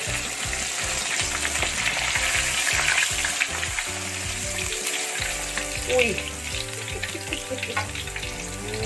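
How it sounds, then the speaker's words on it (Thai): Whole squid deep-frying Korean style in hot oil, with a dense, steady crackle and frequent oil spatters close up throughout, plus faint background noise. "น้ำมันกระเด็น"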